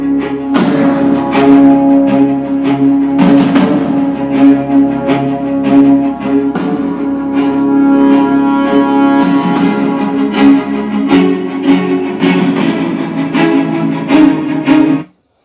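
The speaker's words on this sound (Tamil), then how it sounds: "இப்போ ஏதாவது ஒரு சாங் பார்த்தீங்கன்னா நம்ம ப்ளே பண்ணி பார்க்கலாம்." A song plays through a Bernar 5W Bluetooth speaker, loud and close, with a strong steady beat, bass thumps and melodic tones running continuously before stopping abruptly.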